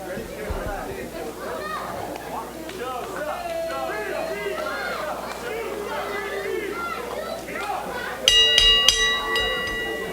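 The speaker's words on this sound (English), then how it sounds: "Bell rings, American Championship match underway, and Richie Slade shoving the challenger" Wrestling match bell at an American Championship bout, several quick sharp rings near the end cutting through the busy chatter of a crowd.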